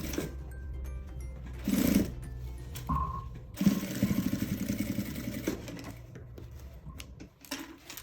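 A sewing machine stitches a seam on a fabric baby bag in short runs, its rapid mechanical chatter starting and stopping close by between quiet pauses.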